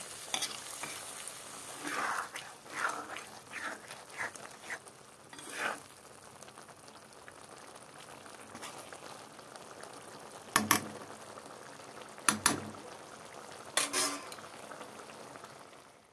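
A small-fish curry with tomato simmers in a little gravy, giving a soft, continuous bubbling sizzle. Scattered stirring scrapes run through it, and a few sharp metallic clinks of a utensil come near the end.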